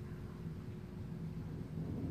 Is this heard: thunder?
yes